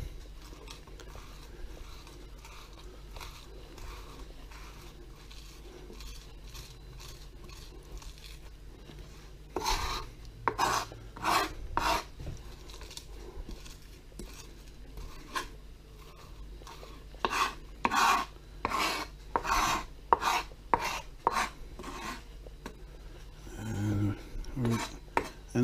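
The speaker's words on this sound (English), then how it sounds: "I'm just gonna go ahead and do it, run my knife through it a little bit more." A knife chopping through guacamole on a board, soft patting strikes at first, then a brisk run of sharp, close taps in quick rhythm with short pauses, no talking.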